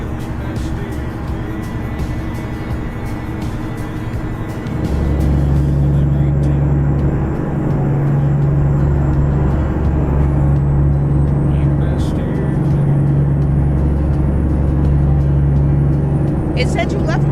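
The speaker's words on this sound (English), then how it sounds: "I got a new truck. It's very loud." A heavy truck engine in American Truck Simulator, a loud steady low drone that kicks in partway through after a quieter stretch, with a person talking over it.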